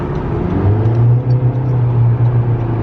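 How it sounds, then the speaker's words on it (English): Engine of a small car on a drive toward Miami, a loud, steady droning hum with a sustained low tone that swells slightly as the engine works harder, with no talking. "Careful, don't want to blow the engine in this little car."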